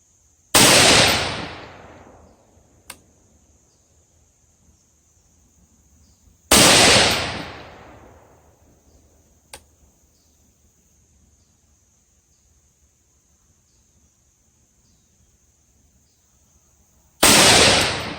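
Three loud, sharp rifle shots from an AR-style rifle fitted with a Palmetto 224 Valkyrie barrel, spaced several seconds apart, each followed by a decaying echo, with faint metallic clicks between shots and no talk.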